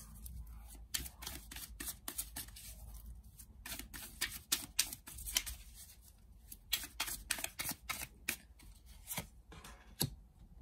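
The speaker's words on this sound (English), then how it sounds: "Let's pull out a few more cards" Tarot cards being shuffled and drawn, with quick papery riffles and soft slaps in irregular bursts, close and fairly quiet, with no talk.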